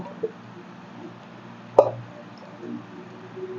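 Cut pieces of ripe mango drop into a mixer jar in a single soft plop, heard near and brief against a quiet kitchen background.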